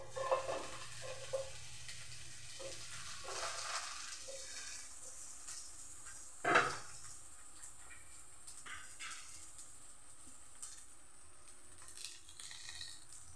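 Okra goes into a hot pan while ginataang tuna is cooked at home, giving a soft, steady sizzle with stirring scrapes and one sharp clatter midway, fairly quiet throughout.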